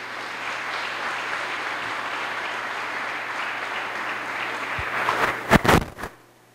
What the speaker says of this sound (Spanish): Demos un aplauso a la hermana que se oyó muy bien.